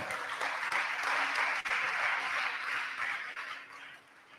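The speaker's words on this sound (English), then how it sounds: "Ladies and gentlemen, please a wonderful round of applause for Baba" An audience at a national exhibition and awards event applauds Baba with dense, sustained clapping that swells, then gradually fades toward the end, with a faint tonal hum beneath.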